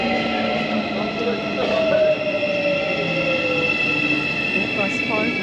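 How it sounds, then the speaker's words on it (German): An Istanbul metro train pulls into a station, wheels squealing in long rising and falling tones over a steady rolling rumble, with a station announcement and voices mixed in. "unser Zug kommt"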